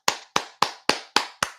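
A golf clap from one person, with six sharp, evenly spaced claps in quick succession, close and dry with short decays and no talking.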